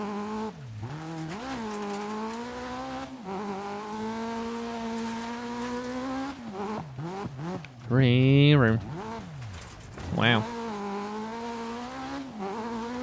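A Group B four-wheel-drive rally car in Dirt Rally 2.0, its engine droning and climbing through revs with gear-shift dips, then a sharp high scream of revving and tire squeal, while a voice talks briefly over it.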